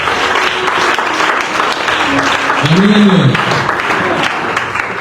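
A church congregation at a youth seminar applauds and cheers continuously, with dense, loud clapping filling the space while a voice speaks over the crowd.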